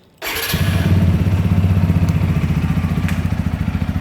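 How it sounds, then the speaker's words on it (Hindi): A TVS Apache 200 4V motorcycle engine fires up after a short quiet moment, then settles into a loud, steady, throbbing idle close by. "और जब हम बाइक स्टार्ट करते हैं"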